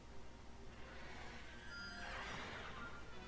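Horse neighing near a stable in Zelda: Tears of the Kingdom, a faint, distant whinny rising out of soft ambient game background about two seconds in.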